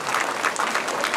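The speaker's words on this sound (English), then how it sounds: "a round of applause for a really," An audience at a junior livestock show claps for the show board, a brief, soft and fairly distant patter of many hands with no voices over it.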